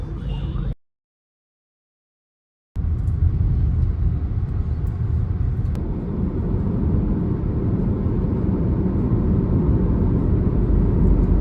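A car on a highway, a steady loud low rumble of road and engine noise filling the cabin after a short silent gap, continuous and even throughout.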